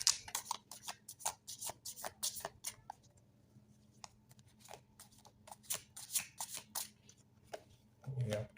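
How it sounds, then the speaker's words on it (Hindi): Tarot cards being shuffled by hand: a rapid series of crisp riffling and snapping bursts, close and fairly quiet, with a short pause midway and a voice speaking briefly near the end. "Shuffle some cards for you."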